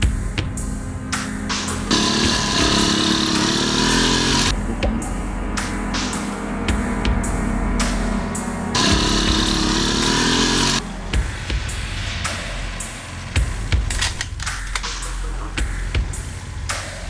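A motorcycle engine running, a loud buzzing drone with rising and falling revving passes, close up and continuous, with a few sharp knocks near the end.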